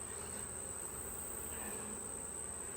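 Honeybees buzzing around a hive during a split inspection with a caged queen, a steady quiet hum with faint insect drone throughout and no talking.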